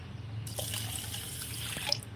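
Water streams and splashes steadily into a cooking pot for a couple of seconds over a low background hum.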